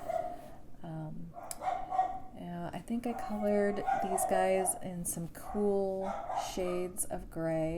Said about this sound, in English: I apologize if you can hear my schnauzers barking below stairs.